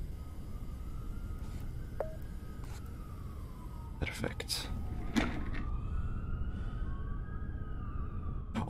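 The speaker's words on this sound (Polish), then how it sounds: "Nie usłyszałem go prawie przez te syreny." Wailing sirens in the game Dead Signal, rising and falling tones running continuously beneath a voice, with a few sharp clicks and bursts in the middle.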